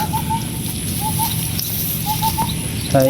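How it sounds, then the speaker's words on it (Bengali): An Asian koel gives repeated two-note whistled calls in groups from a middle distance over steady outdoor background noise, with a short louder call at the very end. "এটা কইলা বাবা দিনে ডাকতেছে ডাক"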